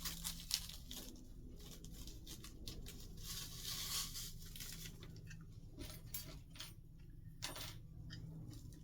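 Plastic wreath wrap crinkling and rustling in close, irregular bursts as it is fitted over an artificial chandelier arrangement, with small taps and crackles and no voices.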